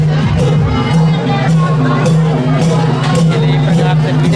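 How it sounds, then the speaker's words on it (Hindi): A crowd at the Kabir Prakat Utsav procession in Balodabazar gives off dense, loud, continuous babble, with a steady tonal hum underneath. "एक प्रकार से भीड़ है चारों ओर जहाँ भी देखो पूरा पब्लिक दिखाई दी"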